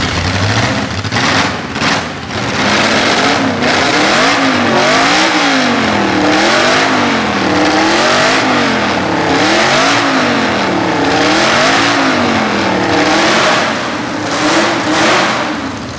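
A loud Porsche flat-six boxer engine revs repeatedly, rising and falling in rapid waves, very close and roaring, with no talking over it.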